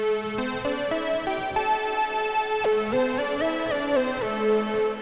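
Oscillators of the Sonic Faction Clone synthesizer play a bright, buzzy, harmonically rich tone, stepping through a short sequence of held notes with a sudden pitch change midway, loud and alone.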